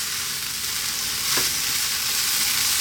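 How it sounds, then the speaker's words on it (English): Chickpea fried rice frying in a hot pan while being stirred, a dense continuous sizzle with a brief scrape midway, close and steady with no voices. "Keep this moving, fry the rice."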